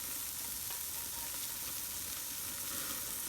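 Bacon sizzling in a Lodge cast iron skillet, a steady bright hiss and crackle of frying fat that stays even and fairly quiet with no talking.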